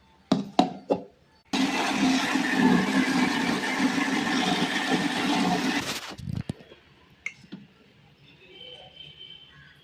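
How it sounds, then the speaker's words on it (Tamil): A kitchen mixer grinder blends ginger garlic paste with oil in one loud whirring burst of about four seconds, with lid clatter and handling knocks before and after. "இது கூடயே நான் கொஞ்சம் ஆயில் ஊற்றி அரைச்சிக்கிறேங்க"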